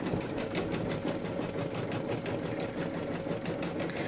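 Embroidery machine running a placement stitch on knit fabric, a fast steady mechanical chatter of rapid needle strokes, close and continuous with no talk.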